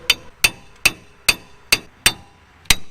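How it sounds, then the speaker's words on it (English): A heavy ratchet, used in place of a hammer, strikes wheel studs on a car wheel hub in seven sharp metallic clanks at a roughly even pace, each one close and ringing briefly. "I don't have a hammer, so I'm just going to be using this ratchet"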